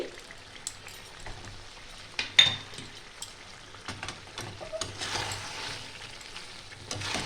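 A spoon scrapes and stirs a cashew, curd and green chilli paste in a pan, soft intermittent scraping and light sizzling with a few sharper knocks, quiet and close.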